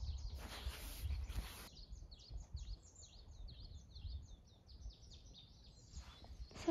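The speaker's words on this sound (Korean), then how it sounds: "새소리." Birds chirp on a mountain hiking trail, a string of faint, quick high tweets repeating in the distance over soft outdoor rustle.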